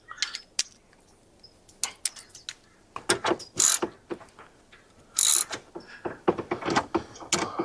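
Rapid ratchet clicking as a 10 mm bolt is undone on a Jaguar XJR coolant overflow tank, bursts of close ratcheting with pauses and a few louder rasping spurts.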